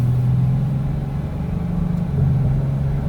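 Inside a car driving down the road, a loud steady low rumble of engine and road noise fills the cabin without letup.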